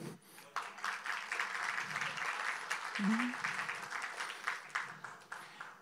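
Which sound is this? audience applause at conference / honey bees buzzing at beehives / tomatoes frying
audience applause at conference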